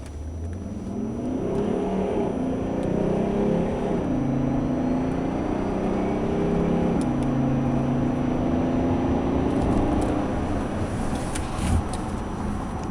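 A car engine revved hard at full throttle after warming up, a loud sustained drone whose pitch climbs and holds in steady stepped rises for several seconds, close to the microphone with no talk over it.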